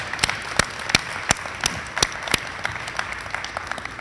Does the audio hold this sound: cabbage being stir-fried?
no